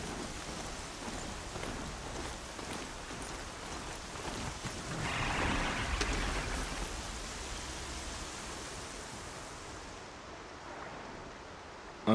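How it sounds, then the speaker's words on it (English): Steady rain pours in the video game Horizon Zero Dawn, a continuous broad hiss of drops on surfaces that swells midway with a low rumble like distant thunder, then eases slightly, with no speech. "Here comes the rain."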